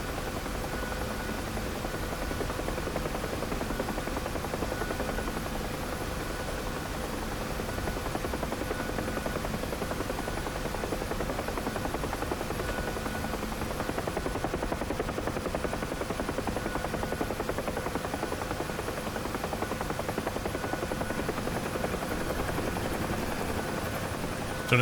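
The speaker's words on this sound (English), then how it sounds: "I'm in the VIP chopper now" A VIP helicopter in the DCS World flight simulator, its rotor and engine droning steadily and loudly throughout, heard from inside the cockpit without pause.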